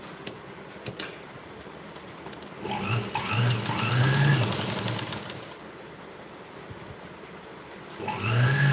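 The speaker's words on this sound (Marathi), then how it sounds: "वरच्या साईडने शिलाई देऊन घ्यायची" Domestic sewing machine running a stitch along a folded strip for a princess-cut blouse, a steady motor whir that rises in two bursts after a quiet start, close and alone with no talking.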